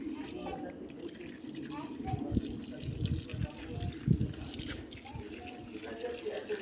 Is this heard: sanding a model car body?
no